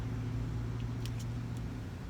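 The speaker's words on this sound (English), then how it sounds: "There's a car wash going right here." Cars at a busy car wash beside a fast-food restaurant, heard as a steady low engine and road hum with a few faint high clicks over it, no talking.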